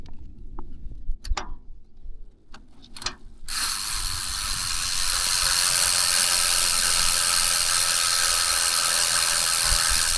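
A few sharp mechanical clicks come first, then a continuous fast ratcheting buzz from the freewheel hub of a BXT carbon rigid fat bike spinning, holding steady and fairly loud.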